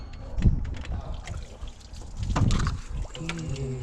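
Hot coolant splashes and trickles out as hoses are pulled off a Blazer engine, uneven liquid gurgles and drips up close amid clanks and handling noises.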